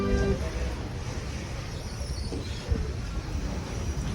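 Tram running on rails during a theme-park ride past a lagoon, a steady low rumble and rolling rail noise throughout with a faint clack near the end.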